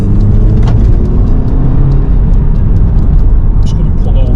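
An Audi TT drives along with a steady low engine drone and road rumble from inside the cabin, constant and fairly loud throughout, with brief faint clicks over the top.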